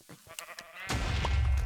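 Sheep bleat in the Hypixel Sheep Wars video game, short synthetic calls among clicks before a loud explosion-like burst takes over the second half.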